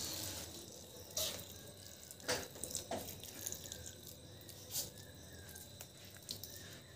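Water is poured from a container onto newly planted flower pots. Faint splashes and trickles come in short bursts over a quiet outdoor background.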